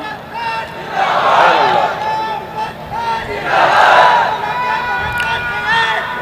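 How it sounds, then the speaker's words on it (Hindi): A large crowd at a religious speech shouts slogans in two loud, surging waves of massed voices over a continuous murmur. "भीड़ में से भी नारे आ रहे हैं"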